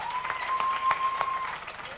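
Scattered, fairly faint clapping from an audience at a campus political campaign event in Jember, with a few distinct claps over a steady tone in the background.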